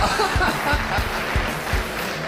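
Scattered clapping from a small crowd, steady and moderate, with a muffled background murmur.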